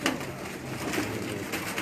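Breeder pigeons coo in a loft, a soft low burbling call over a steady hiss of background noise, with no talking.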